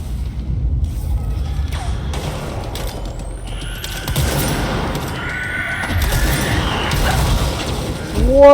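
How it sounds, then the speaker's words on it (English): Bombs go off in the Control video game, The Foundation expansion, as deep booming blasts and rumble that repeat through a busy combat mix, with a sharper crack near the end. "Look at how many bombs she's throwing."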